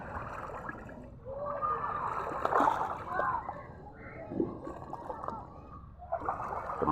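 A dog leaps off a fishing boat into the sea, making a watery splash amid sloshing waves, with voices talking over the water throughout.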